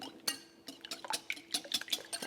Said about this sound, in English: so we're going to whisk these together